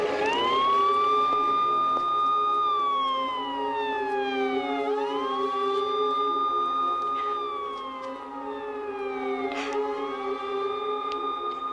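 An ambulance siren wails loudly and steadily nearby, its tone repeatedly sweeping up and gliding down in long cycles over a low engine hum.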